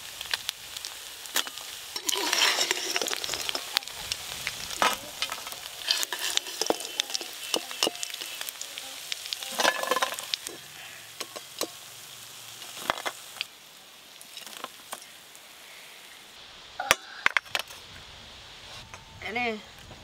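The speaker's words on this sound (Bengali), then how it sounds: "কাঁকড়াগুলো ভাজা হয়ে গেছে, তো তুলে নেবো এইবার।" Small crabs frying in oil in a pan in a village kitchen, a steady close sizzle with scraping stirs and clatter from a utensil, some of it under voices.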